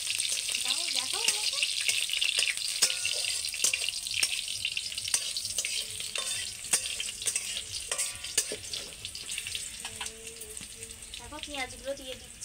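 Food sizzles and crackles steadily in a wok (kadai) on a wood fire while onions go in, with stirring clatter and occasional spoon taps, and someone talks over the frying.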